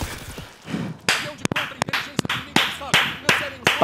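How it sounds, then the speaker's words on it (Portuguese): Sharp hand claps ring out in an uneven run of about eight or nine slaps, close and loud, over a busy background during a Portuguese-language gaming stream. "Palmas."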